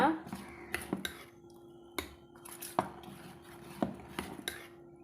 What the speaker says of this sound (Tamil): நம்ம இதை கலந்து விட்டுக்கலாங்க